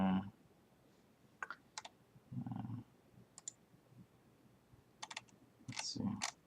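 Scattered keystrokes on a computer keyboard come in short irregular bursts of clicks, soft and close, with brief pauses between them and no talk.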